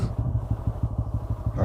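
A motorcycle idles with an even, low pulsing throb, close by on a road trip toward Ananthagiri Hills, before it is switched off at the very end.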